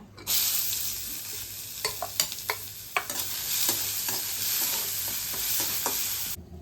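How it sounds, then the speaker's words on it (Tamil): Dried red chillies and onion fry in a hot pan for aavaram poo chutney. A bright, steady sizzle is broken by several sharp scraping stir strokes from a spatula. It sounds close and continuous, with no talking. "நல்லா பொன்னரமாக வறுக்கணுங்க வரமிளகா போட்டுக்கலாங்க வெங்காயம் போட்டுக்கலாங்க"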